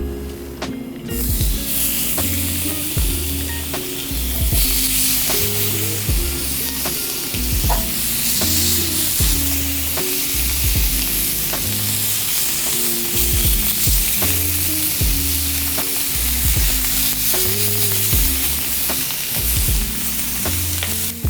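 Lamb chops sizzling in a grill pan, a loud continuous hiss with soft clicks and pops throughout.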